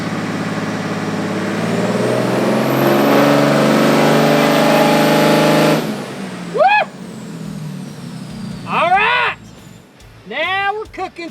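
A 2024 fifth-generation Cummins dually diesel truck roars at steady high revs on a dyno for several seconds, then drops off, with loud short rev blips and bursts following as the engine winds down.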